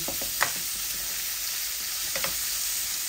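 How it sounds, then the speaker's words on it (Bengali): Food frying in a pot: a steady, close hiss of sizzling oil with faint occasional clicks of stirring, no voices. "এগুলা ভাজা ভাজা হোক"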